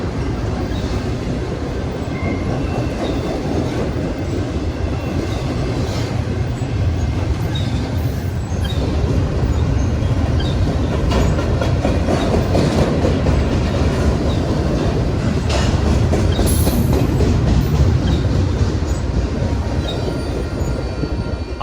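Union Pacific freight train rolling past near Lubbock, Texas, a steady loud rumble of wheels and cars lasting the whole stretch, with faint squeal and clatter over it and no voices.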